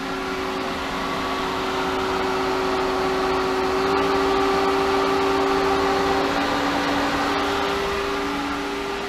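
A Hayward Super Pump VS variable-speed pool pump on 1.5-inch plumbing runs at maximum speed, a loud, steady close motor whine with constant tonal hum and no voices.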